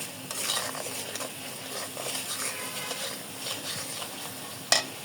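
Onion with chili, coriander and turmeric powder and salt sautéing in a pan for a country-chicken curry, heard as a soft, close sizzle with repeated stirring scrapes and a sharp utensil knock near the end; no speech.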